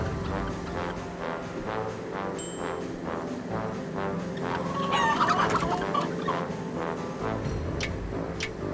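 Chickens clucking steadily in the Wallace & Gromit: Muzzled! PC game, a busy flock of fowl over game music and effects, with a brief burst of louder squawking midway.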